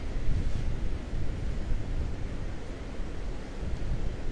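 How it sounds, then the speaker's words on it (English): Morning wind on the beach at Delnor-Wiggins buffets the camera microphone with a constant low roaring rumble, blended with the wash of nearby surf and no voices. "The gimbal's doing all it can to fight that wind."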